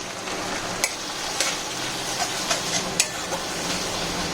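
Green chillies and poppy-seed mustard paste sizzle in hot oil in a pan for a small-fish curry: a steady close frying hiss with a few sharp clicks of stirring, no talk.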